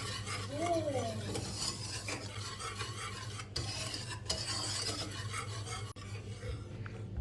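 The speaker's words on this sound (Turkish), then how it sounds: "2 yemek kaşığı kakaoyu da ekleyip kuru malzemeleri biraz karıştırıyorum." Starch, flour and cocoa powder stirred together dry in a bowl for a milk pudding dessert, giving a close, continuous soft scraping and rasping with faint clinks, no talking.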